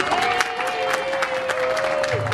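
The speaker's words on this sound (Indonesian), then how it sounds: "Mohon yang lebih kencang lagi tepuk tangannya." Crowd clapping and cheering at a corporate company launch event, steady dense applause with a sustained tone over it and a brief voice near the end.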